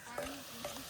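Garlic pieces frying in peanut oil, a brief, faint sizzle with soft bubbling and a stirring scrape, heard close but quietly.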